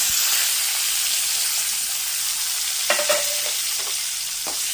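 Onions dropped into hot oil fry with a constant close sizzling hiss, while a few metal stirring clinks and scrapes sound against the pan.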